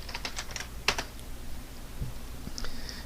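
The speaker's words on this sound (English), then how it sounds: "and then I'm going to type outline number" Keys clatter on a computer keyboard as someone types a short entry in project-scheduling software, a quick run of light clicks with a sharper keystroke and a few later taps, close and fairly quiet over a low room hum.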